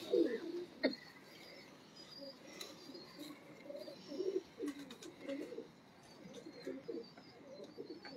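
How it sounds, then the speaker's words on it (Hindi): Pigeon cooing at close range, soft repeated throaty coos in a low rolling rhythm with a few faint chirps and some background murmur, recorded among pigeon keepers. "बहुत शानदार कबूतर है"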